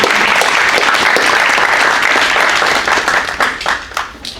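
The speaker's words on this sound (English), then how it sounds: "if everyone can just give a round of applause for" An audience at a panel talk gives a speaker a round of applause, dense steady clapping at full volume that thins out and tapers toward the end.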